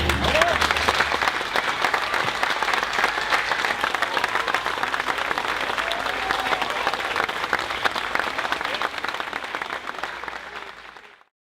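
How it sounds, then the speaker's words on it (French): Crowd at a marathon finish line applauding a runner, sustained loud clapping for about ten seconds that fades quickly and stops. "on l'applaudit encore une nouvelle fois"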